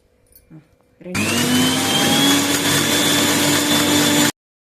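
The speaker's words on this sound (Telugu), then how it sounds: "దీంట్లోనే కొన్ని పాలు పోసి ఇప్పుడు మళ్ళీ మిక్సీ పడదామండి" A mixer grinder blends carrot with milk into a paste, a loud steady electric whine that starts abruptly after a second and runs for about three seconds before cutting off sharply.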